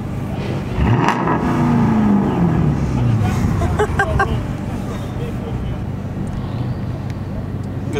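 Diesel trucks rev at a crowded street diesel meet, a deep engine note rising and then falling over the first few seconds, with a crowd murmuring and steady traffic noise underneath.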